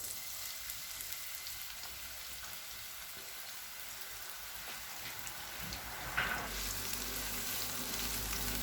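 Finely chopped onion frying in four spoons of cooking oil on a tawa, a steady close sizzle that swells into a louder, brighter crackle partway through as the pan heats, with no talk.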